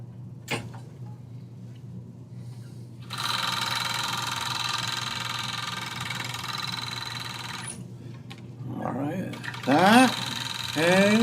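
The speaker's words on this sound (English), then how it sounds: "we're going to go ahead and run those through the serger" A serger sewing machine stitches fabric scraps in a steady whirring burst of several seconds, bracketed by softer handling clicks and a person talking nearby.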